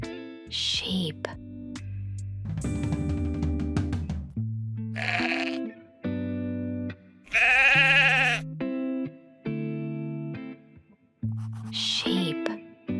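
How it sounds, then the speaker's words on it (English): Wavering sheep bleats, loud and near, alternating with bouncy children's music, with one long strong bleat standing out in the middle. "Sheep."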